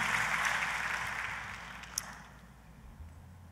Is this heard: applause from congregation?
yes